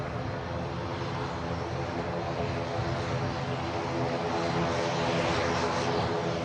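An Airbus Beluga cargo aircraft approaches the runway at Manchester Airport, its engines a loud, steady broadband roar that swells slightly as it draws nearer, heard from outdoors without speech.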